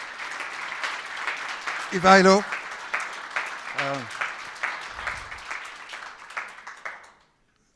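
Applause from a business summit audience, a dense patter of many hands, runs under a presenter speaking into a microphone and stops abruptly at the end.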